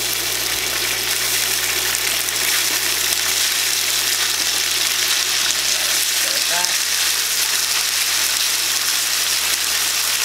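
Spätzle sizzle and fry in a pan, tossed to coat until golden brown, a steady close crackling hiss that continues evenly throughout with a faint low hum beneath and no talking.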